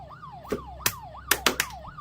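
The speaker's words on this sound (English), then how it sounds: "It says here to wait until the police sirens show." A police siren in the Fears to Fathom horror game wails in quick repeating rises and falls, broken by several sharp knocks or bangs.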